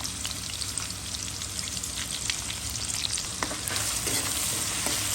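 Onions fry in leftover fish-frying oil in a pan, a steady close sizzle with scattered crackles and occasional stirring, fairly loud and without speech, for a tilapia curry with potatoes and flat beans.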